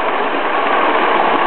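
Lionel toy train with five cars running around a loop of track, giving a steady, continuous whirring rumble with faint rail clatter, close by and without pause.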